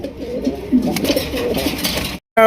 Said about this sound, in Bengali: একদম সাদা দবদবা ফ্রেশ কবুতর